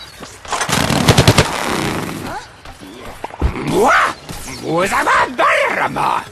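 A rapid burst of loud, rattling gunfire-like shots from a zombie cannon in Plants vs. Zombies: Garden Warfare, followed by deep groaning and bellowing voices.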